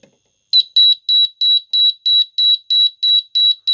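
After a brief pause, a shrill electronic beep starts pulsing in a fast, regular rhythm, loud and close with nothing else around it.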